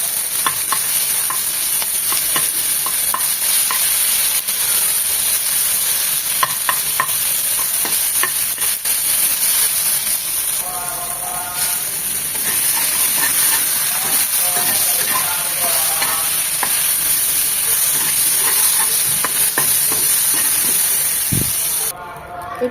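Cauliflower charring in a pan, a steady broad sizzle and hiss that goes on without a break the whole time, with occasional scraping and stirring noises and some brief voices in the background.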